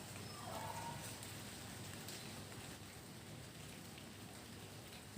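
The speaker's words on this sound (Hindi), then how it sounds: "गीला गीला बूंदाबांदी" Light drizzle falls outdoors as a soft, even hiss of fine raindrops, continuous and fairly faint, with no voices.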